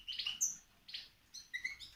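Three birds out of their cages chirp in short, bright, high-pitched bursts, a few quick calls spaced across two seconds, close by and fairly clear with no talking.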